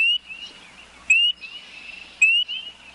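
Frogs calling in an outdoor wetland setting, with three sharp, loud chirping calls spaced about a second apart over a faint, steady high trill.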